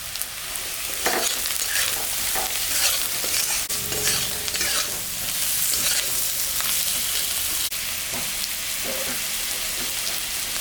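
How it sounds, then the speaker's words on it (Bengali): Potatoes and onions fry with turmeric and salt, a dense steady sizzle crackling throughout with repeated scraping stir strokes, close and fairly loud, with no speech. "এখন আমি হলুদ লবণ দিয়ে দেব।"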